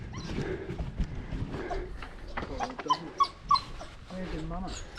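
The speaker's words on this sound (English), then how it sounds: "I think the dogs are chasing him down the track." Dogs on a rain-wet mountain bike trail bark, yip and whimper at close range in short, uneven bursts while people talk over them.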